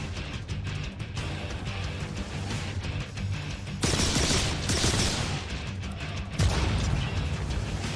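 Shadow mega guns firing in The Darkness video game, dense bursts of gunfire with louder volleys starting midway, heard alone without talk.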